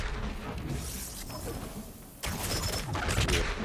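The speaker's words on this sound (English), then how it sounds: "Attack fire pots to cause explosion." Fire pots explode in God of War Ragnarok, a burst of crashing, crackling blasts and whooshing debris, with a sharp louder impact midway followed by rumbling noise.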